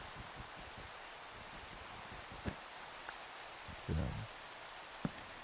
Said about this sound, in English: the rain is great. It's like living in the Netherlands